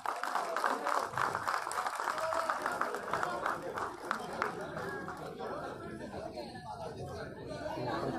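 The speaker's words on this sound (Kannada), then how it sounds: "ಉಪ್ಪಿ ಸರ್ಗೆ ಒಂದು ದೊಡ್ಡ ಚಪ್ಪಾಳೆ ಬರಬೇಕು ಪ್ಲೀಸ್" An audience applauds at the live teaser launch of the Kannada film Kabzaa, honouring actor Upendra. A dense patter of clapping mixes with loud crowd chatter and voices, then thins and fades toward the end.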